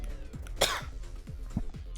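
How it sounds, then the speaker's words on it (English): A single sharp, close cough from a player mid-session while playing Neon Abyss, with faint tonal murmuring before and after it. "Excuse me, I'm gonna cough."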